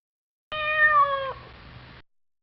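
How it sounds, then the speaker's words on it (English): A single clear cat meow, close and fairly loud, with a short tail after it, heard on its own with no other sounds. "Kitty."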